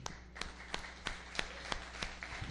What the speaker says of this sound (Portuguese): Salva de palmas ao Senhor.